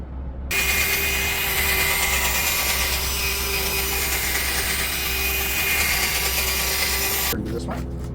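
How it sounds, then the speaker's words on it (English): A handheld polisher buffs a car headlight with a steady, loud motor whine and hum. It starts abruptly and runs evenly for about seven seconds before cutting off, with no talking. "So next we use the polisher"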